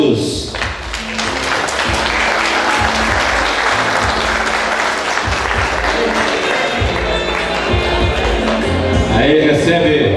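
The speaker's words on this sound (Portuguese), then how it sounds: "senhor Geraldo Stein Bosebecker, para o aplauso de todos." Audience applause at an award ceremony, steady dense clapping from a crowd that holds for about ten seconds with some background voices mixed in.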